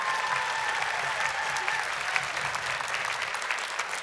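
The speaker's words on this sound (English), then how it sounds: "Let's give another round of applause for Ashley Puenner tonight on that gorgeous singing" An audience at a school band and choir showcase applauds after a solo singer's performance, a dense, steady wash of many hands clapping throughout, moderately distant in a large hall.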